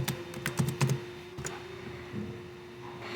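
Keys clatter in a quick burst of typing on a computer keyboard while a MikroTik router gateway command is entered, followed by a single tap and quieter scattered key presses, close and fairly faint.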